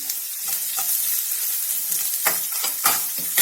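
Onions fry in hot oil for a samosa filling, a loud, close sizzle broken by scraping stirs of a spatula against the pan.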